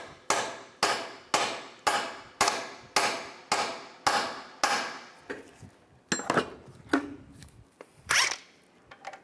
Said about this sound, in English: These ones are a little rusty, so just got to tap the socket on.